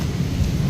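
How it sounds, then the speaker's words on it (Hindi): A deep, steady rumble of thunder rolls under heavy rain in Dadyal, Pakistan, a brief continuous roar with no voices. "बदल गजना ही गया तो मैं बारिश की इंजॉय करना तो बनता है भाई साहब।"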